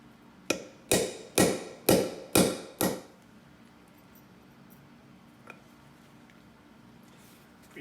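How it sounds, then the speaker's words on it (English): Grommet tool being struck while setting grommets into a backpacking tent fly: six sharp, evenly spaced impacts in quick succession, close and loud, followed by near silence with one faint tap. "Pretty straightforward for using a grommet tool. Just punch the hole, put the grommet up through the hole"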